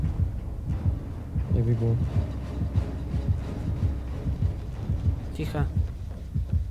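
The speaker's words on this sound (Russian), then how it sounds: "У меня сердцебиение." Killer's terror radius heartbeat in Dead by Daylight, a low steady thumping pulse running under fast, excited talking from players.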